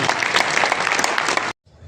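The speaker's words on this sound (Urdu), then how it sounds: "میں سب سے کہوں گا زوردار تالیوں سے ان کا ایک بار سواگت کیا جائے" Audience applause welcoming the new Waqf Board administrator, Engineer Muhammad Rafiq Chishti, a dense burst of clapping from a crowd that cuts off abruptly, leaving faint room sound.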